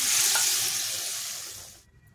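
Potato and pointed gourd pieces go into a hot pan. A loud, close sizzle bursts out and steadily fades to near silence within two seconds, with no talking.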